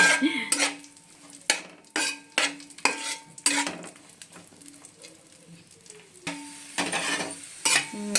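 Raisins fry in ghee in a pan for carrot halwa, a spoon clinking and scraping against the metal in a run of sharp, irregular stirring strokes over a faint sizzle.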